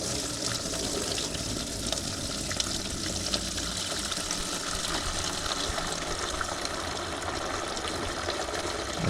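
Water drains steadily out of a cabover truck's fuel system, a continuous hissing, splashing gush that holds even and loud throughout with no pauses.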